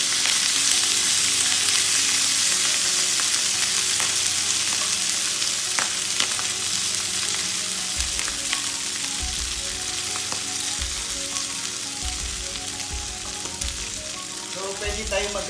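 Milkfish (bangus) sizzles and spatters steadily in a hot pan, with occasional clinks and stirring noises over the constant frying hiss.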